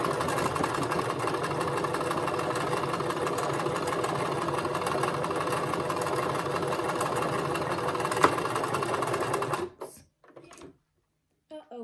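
Sewing machine running steadily for close to ten seconds while stitching a stuffed fish, its continuous motor hum and rapid needle clatter at close range, then cutting off abruptly and leaving near silence with a few faint handling noises.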